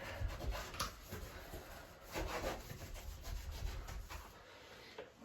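Steady scrubbing of shower grout with bath cleaner, a continuous rough rubbing with a few stronger strokes, close by and alone.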